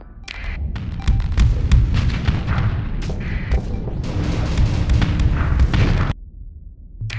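Warships trade weapons fire in a Starsector space battle, a dense barrage of booming impacts and blasts rolling on continuously for about six seconds before cutting to near quiet.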